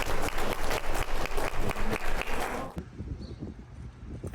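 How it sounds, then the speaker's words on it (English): Loud applause from a motivational event audience, dense and energetic, with a hint of cheering. It cuts off abruptly near the end and leaves quieter background noise. "Let's give yourselves a round of applause."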